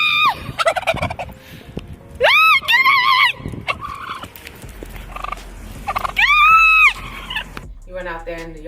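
A voice imitates a turkey's gobble in several loud, warbling bursts, mixed with lively close-up talk in a kitchen setting.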